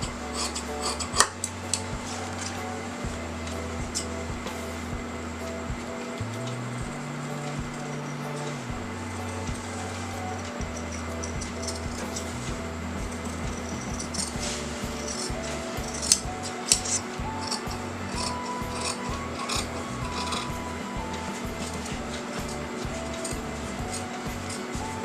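Scissors cut canvas fabric along a neckline, making soft intermittent snips and rubbing sounds over a constant low electrical hum.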